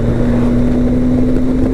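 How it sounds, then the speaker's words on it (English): Steady engine drone and wind rush from a BMW K1100LT motorcycle as the rider opens it up on the road, with a sustained tonal hum under heavy buffeting air noise. "a wee chance to open the bike up now a little bit"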